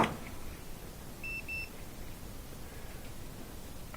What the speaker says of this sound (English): we could use our multi-tester just to get an idea if that is the part that